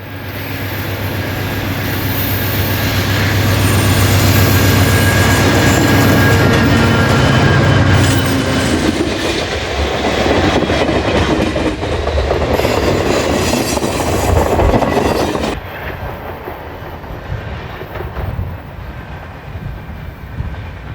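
Amtrak train number 353, the Lake City, pulls out from the old station on Depot Street on its run from Pontiac, Michigan to Chicago, a loud steady rumble and wheel noise on the rails that drops away sharply near the end.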